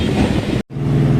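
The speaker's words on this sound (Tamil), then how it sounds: "எலக்ட்ரிக் ட்ரெயின் கீழே இருக்குது" Chennai electric local train at Guindy station: a loud, close rumble of rolling stock that cuts out briefly mid-way, then resumes steadily.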